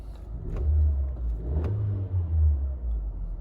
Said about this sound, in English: Engine makes a decent tone for its size and for being a 4-cylinder.